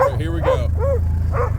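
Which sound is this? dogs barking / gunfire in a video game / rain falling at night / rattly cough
dogs barking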